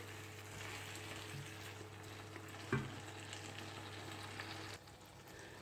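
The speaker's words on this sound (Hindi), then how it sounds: "अब इनको थोड़ा सा हल्का फुल्का सा करेंगे फ्राई" Okra lightly frying in a pan, a faint, steady sizzle with a single soft clatter partway through and a quieter stretch near the end.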